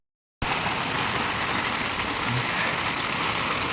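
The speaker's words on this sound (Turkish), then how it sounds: "akıllara zarar bir yağmur yağıyor" Heavy rain pouring down on a farm, starting abruptly after a brief silence and then continuing as a loud, dense, steady hiss with no voices.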